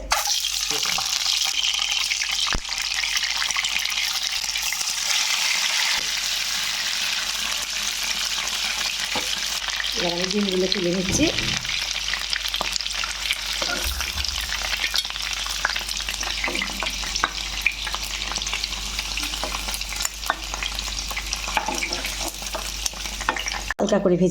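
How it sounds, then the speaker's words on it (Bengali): Eggs fry in hot oil in a pan, giving a steady, dense sizzle that runs unbroken throughout, with occasional clinks and faint watery splashing underneath. "ভেজে নেব ডিমগুলো"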